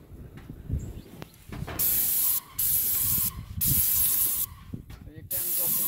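A paint sprayer hisses loudly in several long bursts as paint is sprayed onto a roof in Jamaica, with short pauses between bursts and outdoor background noise.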